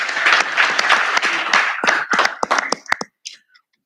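Applause from attendees at a Hampton Roads Planning District Commission council meeting, dense clapping for about two and a half seconds that thins into a few scattered claps and fades out.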